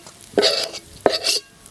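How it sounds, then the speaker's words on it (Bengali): Potatoes fry in white oil in a kadai wok while a home-style duck curry is prepared: two short, bright bursts of hissing sizzle, as if the pieces are stirred or turned, with a quiet pause between. "মাংস দেওয়ার জন্য আলুটা ভেজে নিচ্ছি"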